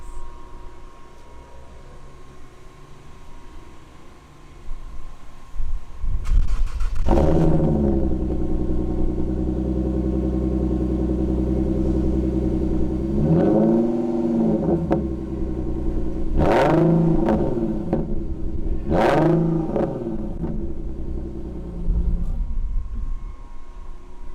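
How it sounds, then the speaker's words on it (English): A 3.7 V6 Infiniti Q50 engine starts with a sharp burst, settles into a deep rumbling idle, then revs hard three times through its exhaust, each a loud rising roar. "I forgot to tell you about this car's exhaust"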